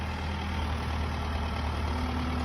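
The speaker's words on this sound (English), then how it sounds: "Use a tractor to carry it instead of hooking it back up." A tractor engine idles steadily and close by, a continuous low rumble with a throaty drone that holds even throughout, no voices over it.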